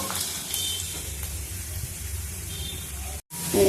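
Onions frying in oil in a pan while cooking small bitter gourds, a steady close sizzle and hiss running throughout with faint stirring, briefly cut off near the end.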